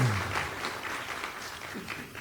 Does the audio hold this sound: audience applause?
yes